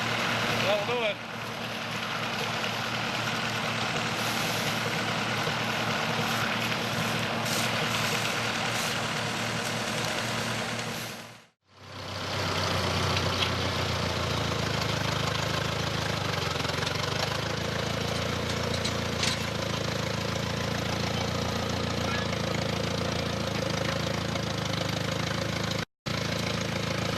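A tractor engine drones steadily and loudly at close range while hauling a load of oat bales on a farm, pausing briefly before running on, with people talking over it.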